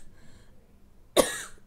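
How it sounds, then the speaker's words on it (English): A single sharp, close cough bursts out after a stretch of near-quiet room tone, trailing off quickly. "coughing a lot"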